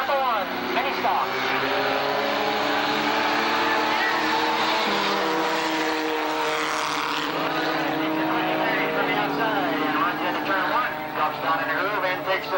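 Mini stock race cars roar together at Tonopah Speedway, a dense continuous engine drone with shifting pitch as the pack pulls away from the start, steady and loud throughout with no talk.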